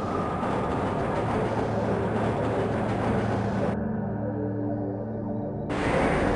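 Tram ride through the Black Mesa transit system in the game Half-Life, a steady, rumbling, humming vehicle drone that holds constant, with a brief muffled, filtered stretch partway through before the full noise returns.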